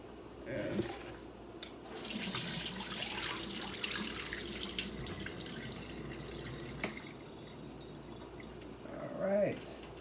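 Tap water runs steadily over ackee in a strainer at a kitchen sink, a continuous close splashing rinse with someone speaking over it in places.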